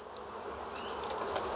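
Bees hum in a steady, dense drone around a hive fitted with wired wax foundation comb, close and continuous with occasional brief higher whines from individual bees passing near.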